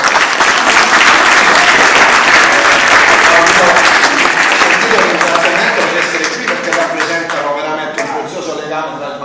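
A crowd at a municipal police celebration for Saint Sebastian breaks into loud, dense applause, close and sustained, then thins into scattered individual claps as it fades toward the end.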